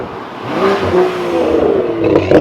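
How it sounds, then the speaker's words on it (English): A BMW M2 with a full iPE aftermarket exhaust revs up loudly nearby, its exhaust roaring and rising in pitch with a rough, throaty crackle. "if you want a loud car, I mean, this is it."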